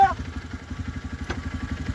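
Motorcycle engine idling nearby, a steady rapid chugging pulse throughout, with a brief tonal blip at the start.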